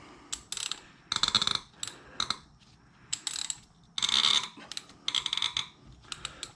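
A ratchet turns a very tight spark plug loose on a 2.3L Ford Fusion, giving short bursts of rapid metallic clicking. The bursts are separated by brief pauses, close and crisp, repeating in uneven strokes with no talk.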